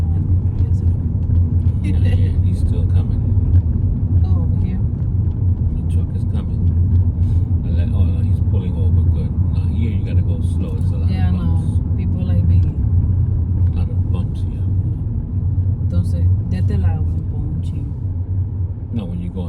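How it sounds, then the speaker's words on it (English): A truck rumbles steadily close behind on the road, its low engine drone loud and continuous throughout, with people talking over it. "The truck is coming."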